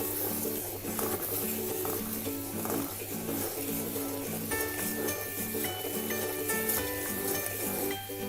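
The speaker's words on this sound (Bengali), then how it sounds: "আমরা এটাকে ঘনভাবে নাড়তে থাকবো যেন নিচে না লেগে যায়" Thick caramel bubbles and sizzles in a pan while a utensil stirs it steadily, with occasional light clinks against the metal.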